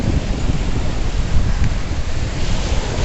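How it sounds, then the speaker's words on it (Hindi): Ocean surf on a Goa beach, a continuous loud wash of breaking waves mixed with strong wind buffeting the microphone, close and unbroken with no voices. "और ये जो आवाज़ है ना लहरों की, बस लगता है पूरे दिन साथ में यहीं बैठे रहो."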